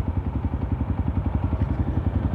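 A Yamaha WR155R motorcycle engine rumbles close up while being ridden, a steady, rapid low thumping pulse with a slight clatter and no talk.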